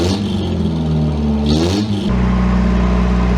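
A long-neglected Toyota 4Runner engine, revived after sitting ten years, revs up loudly and steadily up close, its pitch climbing and then dropping back to a rough, settled idle.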